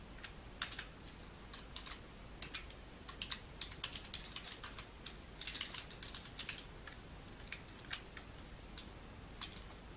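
Rapid typing on a computer keyboard while code is entered, with irregular bursts of light key clicks and a few louder taps, close and fairly quiet, with no voices.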